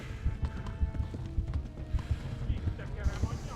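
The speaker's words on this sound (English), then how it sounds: "Man, I'm not very good at riding a horse." Galloping horse hooves in the video game Kingdom Come: Deliverance, a fast, steady clip-clop rhythm close up, carried under game sounds with a voice talking over parts of it.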